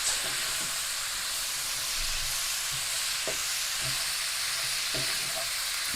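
Turkey breast steak pieces, already cooked, frying down in a pan with a steady sizzle and hiss, broken by a few soft stirring scrapes and taps, close up with no talking.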